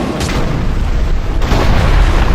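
Cannon fire in the fantasy action game Dungeon Siege 3 booms continuously, a loud, dense rumble of blasts with no pauses.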